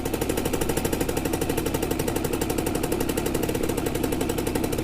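A 1990 Simson S51 motorcycle's small two-stroke engine runs at a steady idle, a fast, even popping chatter heard close and alone for a few seconds.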